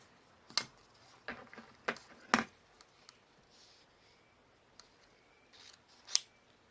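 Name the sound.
scissors cutting ribbon pieces for a bow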